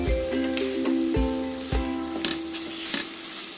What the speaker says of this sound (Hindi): अब हम इसको तब तक भूनेंगे जब तक टमाटो सॉफ्ट ना हो जाए।